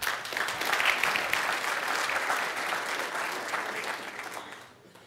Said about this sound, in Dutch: Heel graag uw applaus voor professor Dirk Lauwers